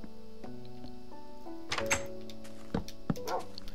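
A dog in the video game Minecraft gives a few short barks and whimpers among thumping block and door sounds, fairly quiet overall.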